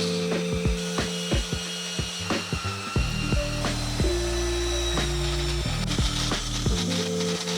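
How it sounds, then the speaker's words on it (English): A portable band saw cuts through salvaged metal for custom fenders in a series of short grinding and ratcheting passes, close and steady, with no talking. "Take the old portaband"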